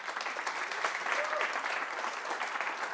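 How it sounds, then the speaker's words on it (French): A seated audience at a live sales session applauds a presenter, the clapping steady and fairly distant throughout, with a faint murmur of voices mixed underneath. "On peut applaudir Tanguy."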